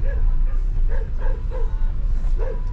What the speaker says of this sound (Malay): mula-mula kita tengok ada anjing menyalak.